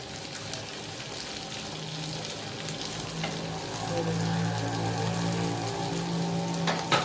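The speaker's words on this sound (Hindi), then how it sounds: "प्याज भी अच्छे से फ्राई हो चुकी है, लहसुन भी फ्राई हो गया है" Onion, garlic, green chillies and spices frying in oil for Afghani chapli kabab, a dense, continuous close sizzle like steady rain with occasional soft scrapes of stirring.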